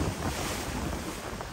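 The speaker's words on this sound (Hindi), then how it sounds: "ये समंदर आज बहुत जोश कर रहा है भाई।" Rough sea off Gadani, heard from a boat out on the water: a continuous loud wash of surf and wind rushing over the microphone, with no speech.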